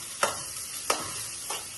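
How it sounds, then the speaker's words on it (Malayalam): Onion being sautéed in a pan for vegetable biryani, with three evenly spaced stirring scrapes, each followed by a soft sizzle over a steady frying hiss. "ഒരു ഉള്ളി നന്നായി വഴറ്റിയെടുക്കാം."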